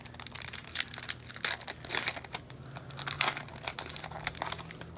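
A Pokémon card booster pack is torn open and its foil wrapper crinkles, a run of close, dry crackling and ripping bursts with no talking.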